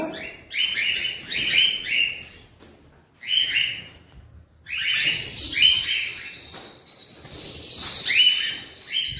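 Several birds chirping and tweeting in bursts, bright quick calls coming in clusters with short quiet gaps between, fairly close.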